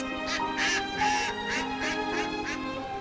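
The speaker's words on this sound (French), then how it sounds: "Écoute les canards." Ducks quack repeatedly in short nasal bursts at a moderate distance, with a steady low background hum underneath.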